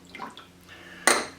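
Water splashes briefly into a kitchen sauce mix of mirin, rice vinegar and soy sauce for kung pao tofu, a short pour that starts abruptly and fades within a moment, preceded by faint clinks.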